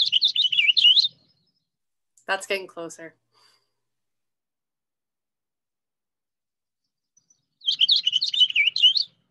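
Purple finch song played from a recording: bursts of rapid, warbling high chirps open and close the clip, with a short stretch of speech between them and quiet gaps around it.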